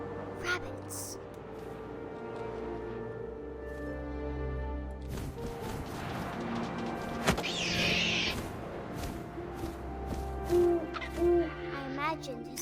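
An owl hoots inside the narrative game What Remains of Edith Finch, set amid wind and ambient game sound, with a few soft calls rising over a steady bed and a brief bright burst midway.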